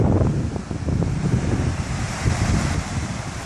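A rushing mountain creek beside the Pacific Crest Trail in the Sierra high country roars loudly and steadily up close, a continuous broadband wash of water with no pauses.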